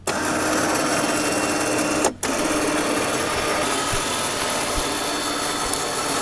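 A motorized winch pulls a garden plow, giving a continuous mechanical whir with a brief cutout midway, then a steady drone with occasional knocks.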